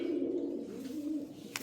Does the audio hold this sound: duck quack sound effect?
no